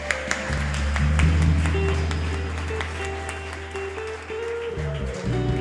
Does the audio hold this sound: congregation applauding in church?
yes